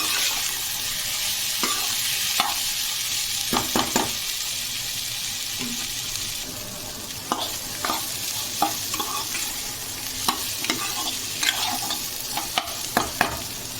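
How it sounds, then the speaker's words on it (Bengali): A lentil mixture is stirred and fried in a pan over high heat, giving a steady sizzle broken by repeated scraping and clinking strokes of a spoon, with no voices. "হাইয়ে রেখে কন্টিনিউ নাড়াচাড়া করে এটাকে প্রথমে আমি একটু ভাজা ভাজা করে নেব"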